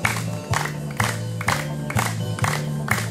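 A group led by an instructor claps fingers together in a Tepuk Nadi exercise routine, sharp collective claps landing in a steady beat about twice a second over rhythmic background music.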